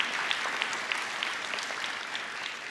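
An audience applauds in a steady, dense crackle of many hands, moderately loud and even throughout, with no voices over it.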